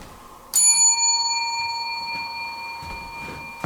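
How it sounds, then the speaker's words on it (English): A single bright bell strike at a courthouse rings out close and loud, then its clear metallic tone lingers and slowly decays over several seconds with a faint knock near the end. "If you can set that bell off right there, tap it."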